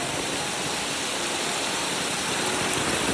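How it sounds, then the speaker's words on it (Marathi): A village waterfall in Konkan pours during heavy rain, giving a steady, close, hissing rush of falling water that fills the whole clip without any voices. "हे बघा वॉटरफॉल"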